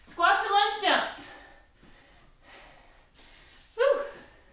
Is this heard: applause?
no